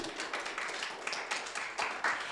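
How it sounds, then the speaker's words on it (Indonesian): Applause at an awards ceremony for the jury, a steady patter of many hands clapping throughout with sharper individual claps standing out, fairly loud and continuous. "mari beri tepuk tangan yang meriah untuk dewan juri kita pada hari ini"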